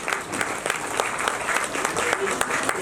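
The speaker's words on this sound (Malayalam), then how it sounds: "കയ്യടി എവിടെ?" An audience at an Onam cultural programme claps in sustained applause, a dense patter of many hands holding steady across the moment.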